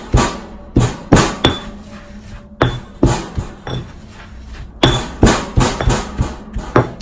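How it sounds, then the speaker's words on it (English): Tea herbs are ground by hand with a repeated rhythmic pounding and clinking, close and fairly loud, in steady strokes with brief pauses. "So we're just going to grind this up."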